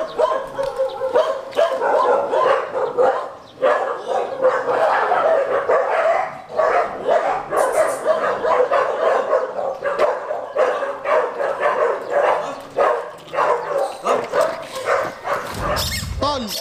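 An American Bully dog barks and yips repeatedly during a training session, loud and close, with bursts of barking, whimpers and excited vocalizing mixed with people calling out and talking nearby.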